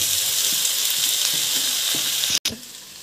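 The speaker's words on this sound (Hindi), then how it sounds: "और थोड़ी देर तक फ्राई कर लेंगे इसको।" Maggi noodles and vegetables stir-frying for Chinese-style Maggi: a loud, bright sizzle with regular spatula scrapes and taps, close up, with a sudden brief cut-out near the end before the frying noise returns.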